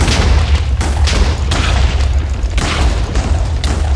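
Loud, continuous booming explosions from enemies firing explosives in a fiery, burning video game area, forming a dense rolling roar with repeated heavy blasts and no voices over them.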